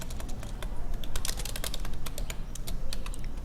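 Fingers type steadily on a computer keyboard, producing a close, rapid stream of clicking keystrokes with brief uneven pauses and no speech.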